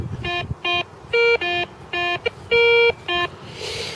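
Handheld metal detector sounding a series of repeated electronic tone bursts, some short and some held longer, over a buried coin during an outdoor detecting session, close and clear.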